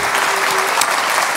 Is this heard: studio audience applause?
yes